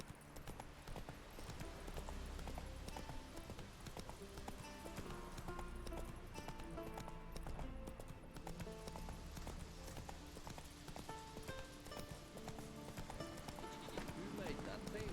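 Horse hooves clip-clop at a steady galloping rhythm in The Witcher 3, continuous and close throughout, mixed with game ambience and a voice talking over it.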